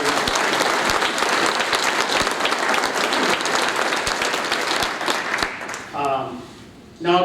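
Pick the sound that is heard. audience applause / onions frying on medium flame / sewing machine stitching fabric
audience applause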